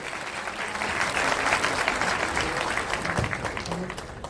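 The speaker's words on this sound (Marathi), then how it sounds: "जोरदार टाळ्यावर टाळ्या लागतच" Loud, sustained applause from a crowd at a felicitation ceremony honouring a former MP, continuous dense clapping swelling and holding for several seconds.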